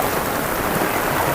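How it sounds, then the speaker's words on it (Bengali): Heavy rain pours steadily onto a rooftop terrace, a dense, loud, unbroken hiss of drops with no voices. "এদিকে অনেক বৃষ্টি হচ্ছে"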